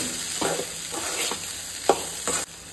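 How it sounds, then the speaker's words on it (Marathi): Fried vegetables being stirred in a pan, with scraping strokes at roughly half-second intervals over a steady sizzle, close and fairly loud, no voices. "बरी मिक्स करूया"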